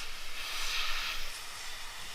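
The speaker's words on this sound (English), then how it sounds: "We're just welding this plastic instead." A plastic welding tool hisses steadily while melting and joining plastic, a soft, close airy hiss that swells briefly in the middle, with no talk.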